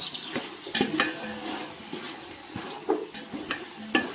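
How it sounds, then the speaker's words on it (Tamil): Vegetables and beans stirred together in a pot for vegetable biryani, with a spoon scraping and knocking against the metal in irregular clinks over a soft sizzling bed, close and steady, with no voices. "இது எல்லாத்தையும் ஒன்றா கால்ட்டு கொண்டு அப்படியே ஆவியில் அப்படியே வேக விடுவோம்"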